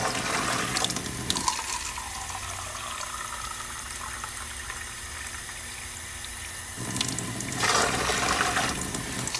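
Water pours steadily into a container to mix four parts water with one part cleaner for washing a car's AC condenser, a continuous rushing splash with brief louder bursts near the start and end.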